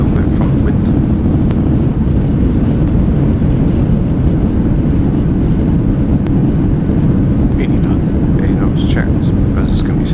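Boeing 737-800 thrust reversers roaring during a landing rollout at Frankfurt in X-Plane 11, a loud, steady broadband rumble that holds for the whole stretch with faint higher hiss and wind noise.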